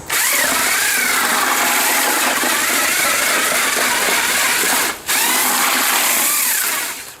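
A drill-driven paddle mixer churns a batch of concrete being mixed for small pads, a loud, steady whirring grind running continuously with a brief cut near the end before the motor spins up again.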